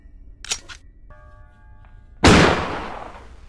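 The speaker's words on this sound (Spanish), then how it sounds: "Voy a intentar dispararle." A gun fires in the Granny horror video game, one sharp loud blast that decays into a rumble, preceded by a couple of small clicks and a brief electronic tone, with no talk.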